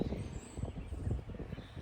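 Low rumbling buffets of wind blowing across a microphone, steady and fairly close, with a faint high tone in the background.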